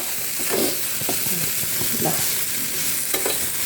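Crushed garlic and chilli being stirred in a pan while frying with chow chow, a steady sizzle under scraping spoon strokes, close and continuous with no talk.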